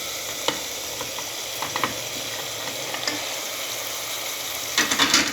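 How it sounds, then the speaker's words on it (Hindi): Mutton seekh kabab and tikka pieces sizzle in a karahi, a steady bright hiss with occasional clinks and stirring scrapes, rising into a louder burst of sizzling near the end. "अब 5 मिनट के दम के बाद इसमें मैं डालने लगी हूँ कबाब और वो टिक्के जो मैंने छोटे छोटे पीसेस में काट के रखे हुए थे।"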